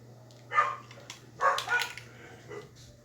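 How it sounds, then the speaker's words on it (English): Dogs bark in a few short, separated bursts at a moderate distance, with no talk in between. "And dogs are going off"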